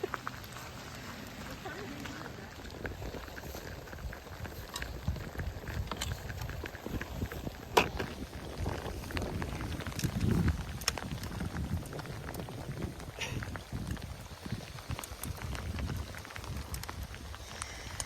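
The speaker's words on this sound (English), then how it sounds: "Why didn't we do this when it wasn't raining?" Light rain falls steadily during an outdoor walk with a dog, a soft continuous crackling patter mixed with footsteps and scattered rustles, low in level throughout.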